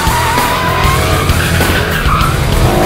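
A 2011 Ford Mustang 5.0 V8 with 412 horsepower roars as its tires squeal and smoke, a steady, loud, close mix of engine drone and rubber screech lasting the whole few seconds, with no voices.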